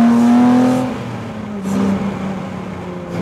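A Jannarelly Design 1 sports car with no sound deadening accelerates from inside the cabin, its engine droning loud and close, rising in pitch, then easing and rising again, heard alone.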